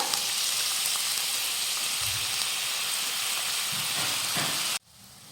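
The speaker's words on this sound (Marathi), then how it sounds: "जिरं भाजून घेतलं की आता त्यामध्ये आपण भिजवून घेतलेला तांदूळ घालूयात" Soaked, drained rice poured into a hot pan of roasted cumin, a steady loud sizzle and hiss from frying that cuts off abruptly near the end.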